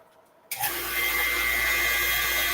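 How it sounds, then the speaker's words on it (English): Vacuum pump switching on during wood turning, a sudden loud start after near silence, then a steady broadband hiss and hum that holds to the end. "let's see if we can pull a vacuum."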